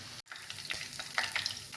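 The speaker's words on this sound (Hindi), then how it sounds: "अब हम लहसुन को इतना फ्राई करेंगे कि इसमें एक अच्छा सा कलर आ जाए।" Close, steady sizzle of finely chopped garlic frying in hot oil, with brief stirring scrapes and a momentary cut near the start, no voices.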